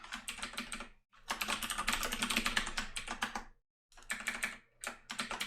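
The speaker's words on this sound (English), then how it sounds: "So I'm going to just type a note here." Rapid clattering keystrokes on a computer keyboard come in close, steady bursts, broken by two short pauses of silence.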